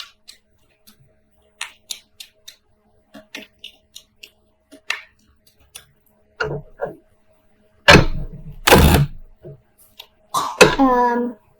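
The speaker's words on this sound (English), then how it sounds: "So let me just shuffle here and we'll pull a few clarifying cards." A deck of tarot cards is handled and shuffled, with sparse soft taps and clicks at first, then a couple of loud rustling riffles, and a brief voice near the end.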